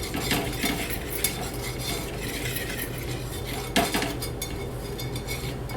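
A metal spoon mixes turmeric and salt into raw mango pieces, scraping and clinking against the bowl in a dense, continuous jumble of close, bright clatter.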